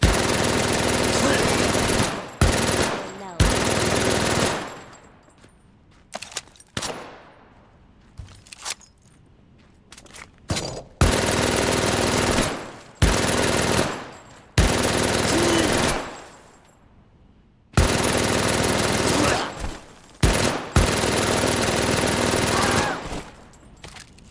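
An MG42 machine gun in a World War II video game fires long, loud, rapid bursts, each a few seconds of continuous high-rate fire, separated by short pauses with metallic clinks and footsteps.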